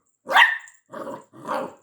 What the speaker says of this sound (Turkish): Evde havlama demedim sana.